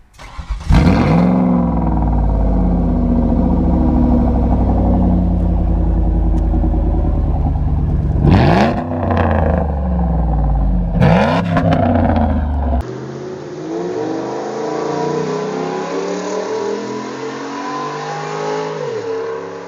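A powerful 3.4-liter V8 car engine revs loudly several times, sharp rising and falling bursts, then settles into a lower, steadier drone near the end.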